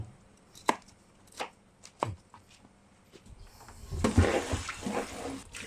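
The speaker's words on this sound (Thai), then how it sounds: "นี่ก็หั่นเยอะๆหน่อยเหมือนกัน" Sharp knife chops strike a board one at a time, spaced irregularly, while cutting vegetables for a Thai mixed-vegetable stew, then a burst of rustling and clattering follows near the end.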